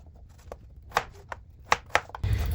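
Knife chopping potatoes into small pieces on a cutting board at home, a handful of sharp separate chops spread out with pauses, then a louder rough scrape at the end.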